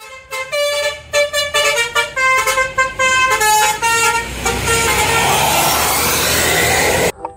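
An Agramas bus sounds its horn as it passes: a run of short, loud, tonal honks in an uneven rhythm, then a sustained whoosh of the bus going by close at hand.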